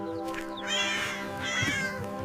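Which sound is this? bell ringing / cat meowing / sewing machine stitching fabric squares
cat meowing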